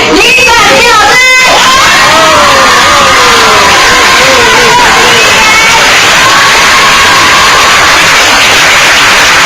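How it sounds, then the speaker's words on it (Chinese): Audience at a high school literature camp lecture cheering and applauding to welcome a speaker: a dense, loud wash of clapping, shouts and shrill screams from a packed room that stays intense throughout. "现在这里最热情的掌声以及最动人的尖叫声，来欢迎我们这一位李展平老师"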